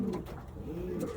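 Pigeons coo steadily in the hen section of a racing pigeon loft, several soft low throaty calls overlapping close by with no talking.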